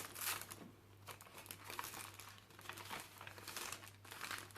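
Tea-dyed parchment paper crinkles and rustles close up in a run of small, crisp crackles, quiet and uneven, with a faint steady hum underneath.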